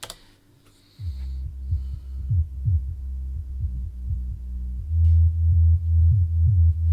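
A deep synth bass with heavy portamento pulses in a rhythmic pattern, each note sliding in pitch like a tuned tom drum, growing louder and fuller midway.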